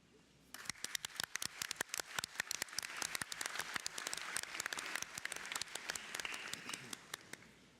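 Meeting hall audience applauding to elect Paraguay's foreign minister as vice-chair by acclamation: a few scattered claps quickly swell into steady, moderately quiet applause that carries on to the end.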